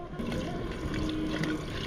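Water poured over rice being washed in a pot outdoors in the desert while cooking Saudi kabsa, a soft steady splashing and trickling close by, fairly quiet with no speech.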